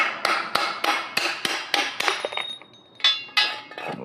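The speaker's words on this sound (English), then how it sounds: "Now, it might take a few whacks, but it'll come out." Sharp metallic hammer strikes knocking bearing races out of a kids' bike crank housing, about a dozen ringing whacks in quick rhythmic bursts with a short pause midway, close and clear with no talk.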